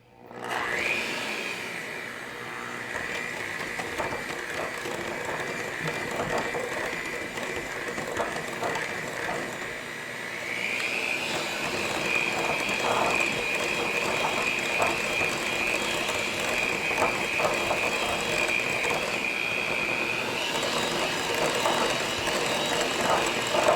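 Stand mixer beating a low carb pumpkin spice caramel cheesecake batter: a steady, loud mechanical whir with a ratcheting gear texture and a bright whine that shifts up in pitch about halfway through, running alone without pause.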